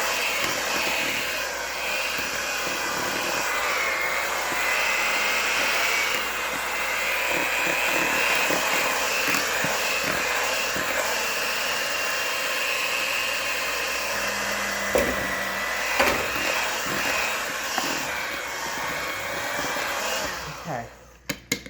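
Electric hand mixers whir continuously through applesauce nut cake batter, a loud steady motor drone with faint voices underneath before it cuts off at the end.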